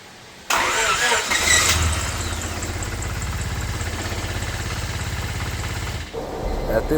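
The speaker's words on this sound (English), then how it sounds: "Whenever I turn it on here in a minute, you'll see the whole engine bay shaking and everything, the whole engine." A 1997 Honda Civic engine cranks and catches abruptly, then settles into a loud, close, rough idle with a steady low rhythmic pulse that dips briefly near the end before continuing.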